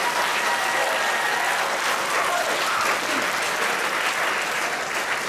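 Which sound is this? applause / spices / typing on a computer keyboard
applause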